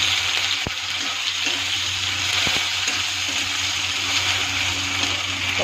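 Tomato frying in a pan with onion and cumin gives a loud, continuous close sizzle, broken by a couple of sharp utensil taps.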